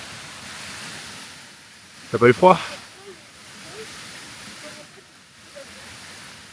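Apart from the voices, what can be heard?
waterfall rushing nearby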